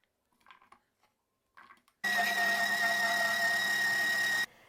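An electric juicer processing radish starts up with a loud, steady whirring hum that runs for about two and a half seconds before cutting off, preceded by a few faint clicks and rustles.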